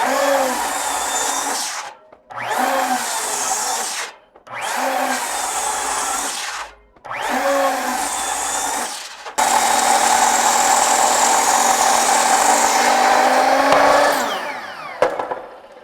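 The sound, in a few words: battery-powered beam saw running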